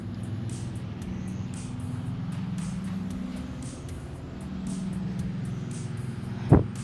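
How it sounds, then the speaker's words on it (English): Several loud trucks drive past on a road together, a continuous heavy engine and tire rumble holding steady for several seconds, ending with a brief sharp louder burst. "All these freaking loud ass trucks drive by at the same time"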